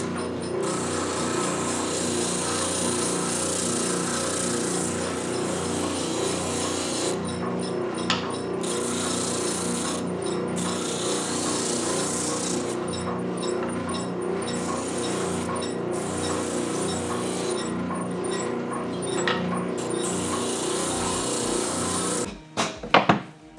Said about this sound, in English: I'm back here to the spindle sander to clean it up.